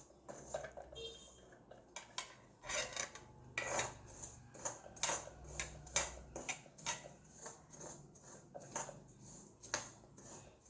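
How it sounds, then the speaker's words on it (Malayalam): Spice powder ingredients dry roasting in a pan, a metal spoon scraping and tapping repeatedly in an irregular rhythm, close and fairly quiet, no voices. "ഇനി ഇതിനെ നന്നായി വറുത്തെടുക്കണം."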